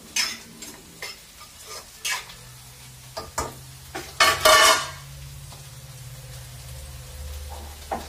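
Cauliflower is stirred with salt, chili and oil in a pan, making a series of close scraping and clinking strokes. One longer, louder scrape comes near the middle, over a low background hum, and nobody speaks.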